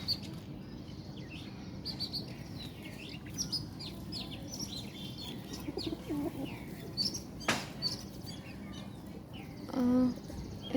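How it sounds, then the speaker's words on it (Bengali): Domestic pigeons at home flutter and flap their wings in soft bursts over a constant low background hum, with faint chirps and coos scattered throughout and a louder flurry near the end. "এই যে আমার কবুতরগুলা"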